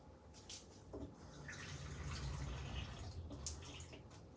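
Half a cup of water pours into blueberry muffin mix in a kitchen bowl, a soft, close splashing trickle lasting a few seconds with faint drips, quiet and without talk.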